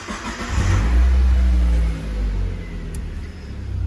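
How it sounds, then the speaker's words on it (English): A Mazda Miata NB engine cranks and catches, with a loud low rumble swelling in the first two seconds and then settling into a steadier idle, alone without voices. "Go ahead and start the engine."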